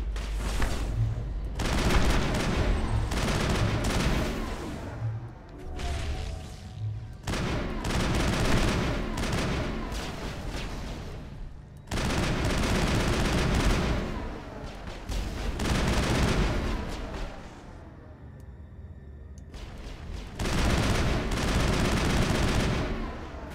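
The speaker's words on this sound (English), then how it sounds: "Shooting at us. What are you guys shooting?" Sustained enemy gunfire in the video game Mass Effect, sharp bursts and rattling volleys in repeated waves with brief lulls, loud and close throughout.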